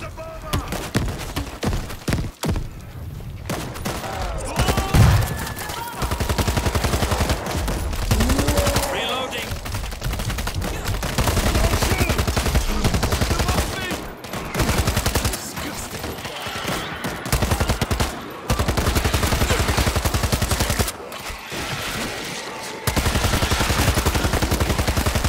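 Dense, loud automatic gunfire from many weapons in the World War Z shooter, rapid rattling bursts with brief gaps, while voices call out over the shooting.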